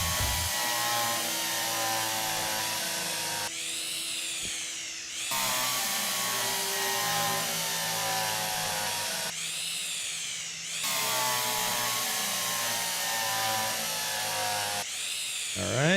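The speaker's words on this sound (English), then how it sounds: "All right, let's get the drill." In a workshop, a power drill bores holes while a DH4 engine model is being fitted out, with long steady whirring runs broken by brief gear changes and pauses, close and loud with no talk over it.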